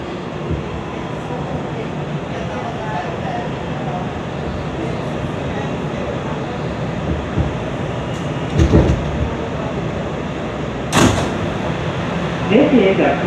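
An R211A C local train rides through the New York subway, a steady, close rumble and rattle of the car under recorded announcements, with a few brief clanks and door-like knocks near the end.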